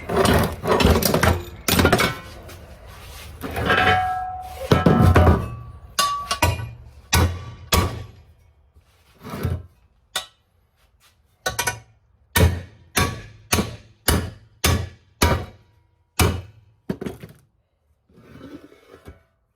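Loud, sharp hammer blows on a metal panel of a 1964 Impala's lower control arms ring out, first in irregular clusters, then as a steady series of single strikes with short pauses between them.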